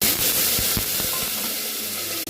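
Mustard, fenugreek and cumin seeds sizzle in hot oil, a loud, steady hiss with faint crackles and no voices over it.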